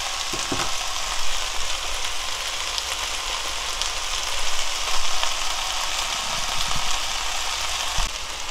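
Seaweed stems stir-frying in a pan, a dense, even sizzle close by with occasional soft scraping of a utensil, no voices over it.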